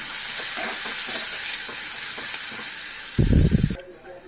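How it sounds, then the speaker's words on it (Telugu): Thin, long strips of taro root fry in hot oil in a pan, a steady loud sizzle and hiss throughout with a brief burst of stirring near the end. "పులుసులకి ఇలాగా సన్నగా పొడుగ్గా కట్ చేసుకుంటే చాలా బాగుంటాయండి అందుకే నేను ఇలా కట్ చేసుకున్నాను వీటిని కూడా బాగా వేయించుకుందాం"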